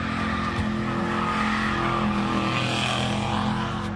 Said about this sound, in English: The car then accelerates, making a loud noise, scaring the news reporter.